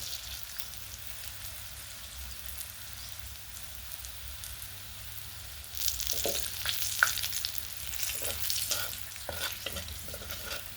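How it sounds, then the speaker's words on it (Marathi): Garlic frying in oil until golden red, a faint background hiss that swells into a louder crackling sizzle about halfway through, with a few scattered stirring clicks. "लसूण सोनेरा होईपर्यंत, म्हणजे लाल होईपर्यंत आपण थोडं तळत राहायचं आहे."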